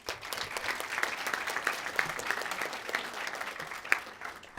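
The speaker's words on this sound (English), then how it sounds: "please help me in giving a round of applause to all of the honorees this evening" An audience at an evening honors ceremony for high school students gives sustained applause, a dense, even wash of clapping with a few sharper claps standing out.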